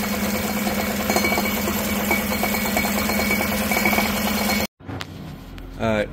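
An idling Chevrolet Tahoe engine runs with a steady, close rattling hum from the exhaust, caused by a crumbling catalytic converter, then cuts off abruptly, leaving quieter clinks and shuffling.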